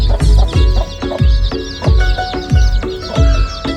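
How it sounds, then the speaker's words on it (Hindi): A desi hen clucks in a steady rhythm of repeated short calls on an organic poultry farm, close and loud, with softer peeping chicks around her. "ये आप देख सकते हैं कैसे सारे चूजों को लेकर मुर्गी बैठी हुई है"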